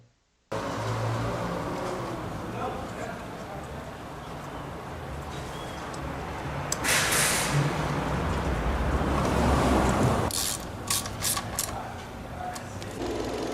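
A car engine idles steadily after its ignition coil has been replaced, a continuous even running drone that grows slightly louder partway through, with brief higher clicks and hiss.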